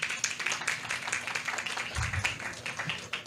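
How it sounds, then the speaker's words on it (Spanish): An audience at a conservation-finance event in Peru claps for an introduced speaker, a dense, fairly quiet patter of many hands lasting throughout, with a low steady hum and a dull bump beneath it. "Un aplauso para ella, por favor."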